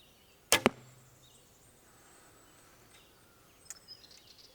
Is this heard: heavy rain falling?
no